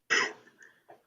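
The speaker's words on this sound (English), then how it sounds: "Don't cough on me." A single harsh cough bursts out close by, followed by a couple of softer throaty after-sounds, during a late-night live-streamed talk show.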